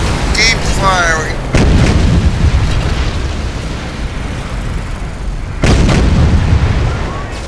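Heavy naval guns fire in a World War II naval video game set at the Battle of Leyte Gulf, with loud booming blasts and long rumbling explosions under excited voices.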